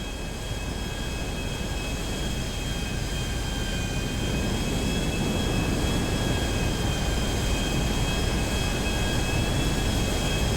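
Steady jet engine roar from the most expensive jet airliner in GTA 5, a constant loud whine and rumble with high tonal tones holding level for the whole stretch, no voices.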